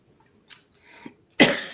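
Two or three sharp coughs burst out close to the mic with brief pauses between, the last one loudest and rough.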